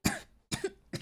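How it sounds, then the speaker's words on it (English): Three quiet, short coughs come one after another at a steady pace, close and soft, from someone who seems to be struggling to breathe. "quiet-sounding cough"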